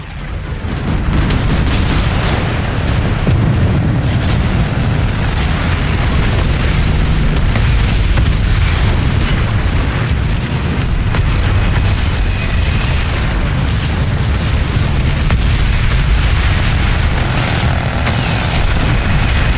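Prowler tank cannon fire in the video game Planetside 2 comes through as heavy booming blasts over a constant dense rumble of engine and battle noise, loud and sustained throughout.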